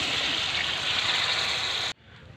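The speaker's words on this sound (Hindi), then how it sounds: "5 गिलास पानी मैंने शामिल कर लिया है।" Water pours steadily and loudly into a cooking pot of pea pulao with rice, a dense continuous rush that stops abruptly, leaving only faint room noise.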